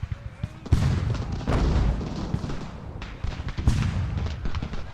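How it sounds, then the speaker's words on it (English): Mortar shells burst repeatedly in an Ultimate General: Revolution battle, a series of deep booms and crackling impacts layered over a steady rumble of distant gunfire. "What's that there? Was it a shell burst? Friendly fire? That's the mortars getting involved."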